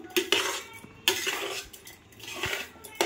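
A spoon scrapes and clinks against a metal pot while stirring food, with three sharp metallic knocks standing out amid softer scraping, close and fairly quiet with no talking.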